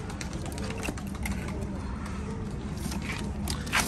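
Pigeons on a rooftop loft coo under someone speaking, the soft repeated calls close by amid steady outdoor background noise and occasional rustling.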